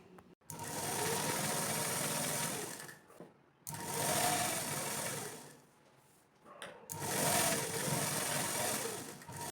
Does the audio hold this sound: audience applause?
no